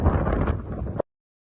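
Wind buffeting a microphone outdoors in a very windy spot during a St David's Day broadcast, a low rumbling roar lasting about a second before cutting off abruptly.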